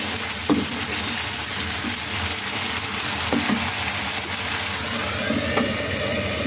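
Liver sautés in a pan with a constant loud sizzle, broken by a few clear utensil knocks and stirring scrapes spaced a couple of seconds apart, no talk.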